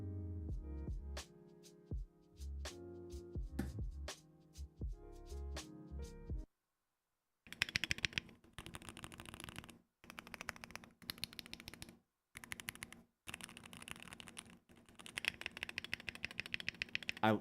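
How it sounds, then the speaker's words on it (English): Typing on a factory-stock Polar 65 Pro mechanical keyboard: a close, crisp run of clicky keystrokes, pausing briefly, then quicker bursts of clacks with deeper space-bar thocks, alone without talk. "I've done nothing to this keyboard, and this is how it sounds"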